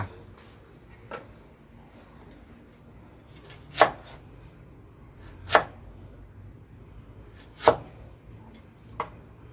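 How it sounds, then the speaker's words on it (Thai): A knife strikes a cutting board a handful of times at slow, uneven intervals, chopping lemongrass and kaffir lime leaves, crisp and close, with quiet background hiss between the chops. "หั่น"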